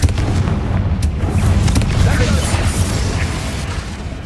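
Fiery Confringo blast spell from Hogwarts Legacy, a dense rumbling explosion with crackling bursts and a sharp hit near the start, loud and close, under a sustained game din.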